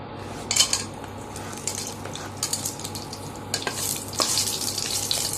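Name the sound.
whole spices frying in hot ghee in a pan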